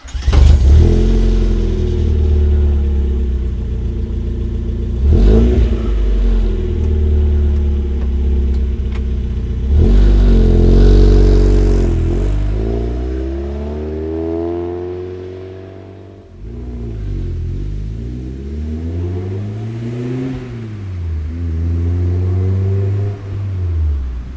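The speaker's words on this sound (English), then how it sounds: "the exhaust is just a Flowmaster DBX muffler that I put on. I had a muffler shop put it on. Sure. For me, and it sounds great" A 1991 Mazda Miata NA with a Flowmaster DBX muffler, header and air intake, revving repeatedly up and down, the engine rising and falling in loud close sweeps with a steady idle rumble between blips.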